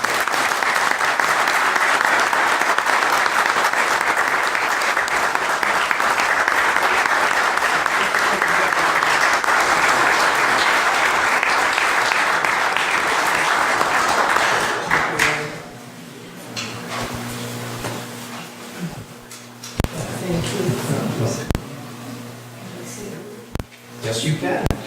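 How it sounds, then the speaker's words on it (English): A township committee meeting audience gives a long, steady round of clapping lasting about fifteen seconds before it stops abruptly, followed by quieter room noise, shuffling and a few knocks. "So let's give a round of applause."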